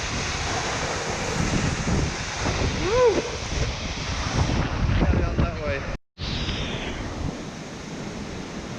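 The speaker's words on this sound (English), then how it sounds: "Rhaeadr Fawr, 180 feet of roaring current." Roar of Rhaeadr Fawr (Aber Falls), a 180-foot waterfall with a powerful current, heard close up as a loud, steady wash mixed with wind buffeting. A voice exclaims over it, and the sound briefly cuts out.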